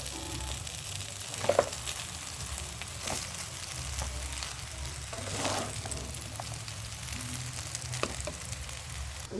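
Veg chicken chow mein frying in a pan, a steady soft sizzle running throughout with a few brief clinks and stirring bumps, close and moderately quiet with no voices.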